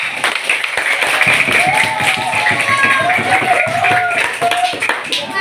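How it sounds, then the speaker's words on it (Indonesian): A class of fifth-grade primary school pupils claps together in their classroom, a dense, steady patter of many hands close by, mixed with children's excited voices and squeals throughout. "tepuk tangan dulu yang meriah"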